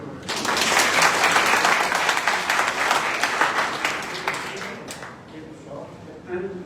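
A university lecture audience bursts into sustained applause, dense clapping that swells quickly, holds for about four seconds and then thins out, with faint voices underneath.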